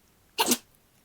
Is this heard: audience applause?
no